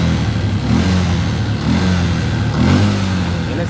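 A Yamaha Jupiter MX motorcycle engine runs loud and close, idling with a steady throb and occasional slight revs, in a bike with a corroded fuse holder.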